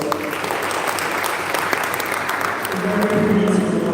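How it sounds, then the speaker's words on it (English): An audience applauds with steady, lively clapping for several seconds, and a voice shows faintly underneath toward the end. "which I think needs another round of applause."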